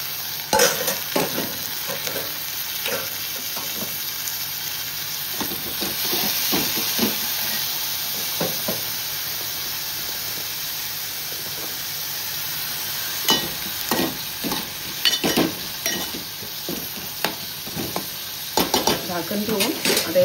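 Onion and tomatoes frying in a pan while being stirred, a steady loud sizzle and hiss broken by repeated scraping and clattering strokes of a spoon, close up with no voices.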